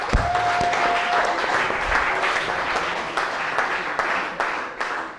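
An audience in a cooking competition show applauds the judges, a sustained wash of clapping that thins gradually toward the end, with a few louder individual claps standing out.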